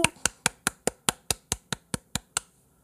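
Steady hand clapping: about twelve crisp, evenly spaced claps from a single person, close and distinct, with no talk.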